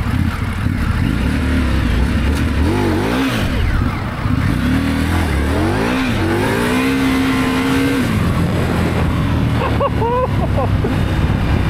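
An Indian Scout motorcycle engine idles roughly, then revs up and down several times with rising and falling pitch, loud and close, with muffled voices faintly underneath.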